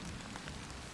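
Rain falling on a surface, a soft, even hiss of scattered drops, faint and continuous with no voices over it.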